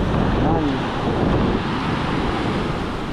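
Sea waves surge and wash steadily onto a shore with strong wind buffeting the microphone, a loud continuous roar throughout.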